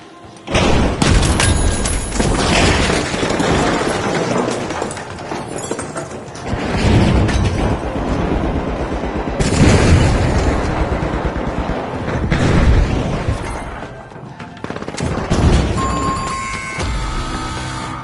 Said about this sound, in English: Frag out! Frag grenade out!